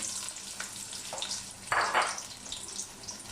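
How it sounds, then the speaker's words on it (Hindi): Onions hitting hot oil in a large pan for a spicy mutton pulao give a steady, close frying hiss, with a louder sizzling burst about halfway through and no voices. "एक बड़े पैन में हम लोगों ने 2 चम्मच ऑयल डाल लिया। ऑयल अच्छे तरीके से गर्म हो गया। अब इसमें प्याज डाल देते हैं।"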